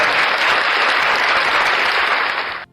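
Dense, steady applause fills the space at full loudness, a continuous patter of many hands that holds evenly and then cuts off abruptly.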